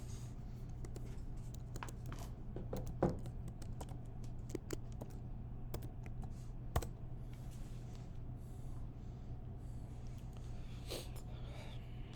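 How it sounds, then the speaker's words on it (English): A password is typed on a MacBook keyboard as faint, scattered key taps with a few louder clicks over a steady low hum. No one speaks. "And then type in your password."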